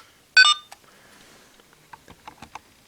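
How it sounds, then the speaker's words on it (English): A CSM Faiz Gear toy from Masked Rider Faiz, powered by two AAA batteries, gives a short bright electronic confirmation beep when switched on, followed by faint clicks and handling noises. "Switching it on, you'll get a confirmation sound."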